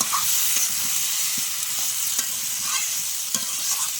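Spice masala with salt and turmeric frying in a pan, a steady close sizzle with occasional scraping stirs of the spoon, continuous and loud with no voices.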